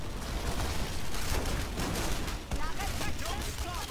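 Rocket explosions and blasts in the game Red Faction Guerrilla, a dense continuous barrage of booming detonations with crackling debris, loud and sustained, with voice talk over the chaos.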